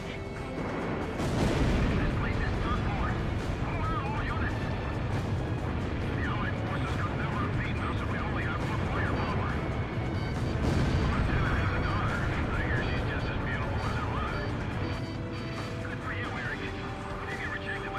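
In the Ace Combat Zero flight game, a missile is fired by accident amid a loud, continuous wash of jet engine roar, booms and gunfire, and a voice talks over the combat.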